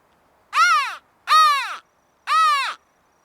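Crow call imitating a distant crow, three loud, evenly spaced hoarse caws that stand out cleanly against a silent background.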